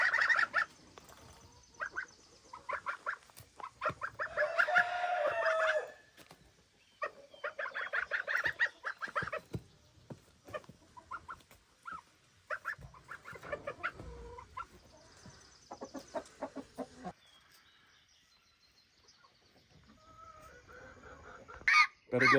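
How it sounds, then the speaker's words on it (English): Hens and a rooster clucking and calling on a Canadian homestead, close and lively bursts of clucks and squawks in irregular clusters separated by quiet pauses, with no talk. "today, Big Red and his hens"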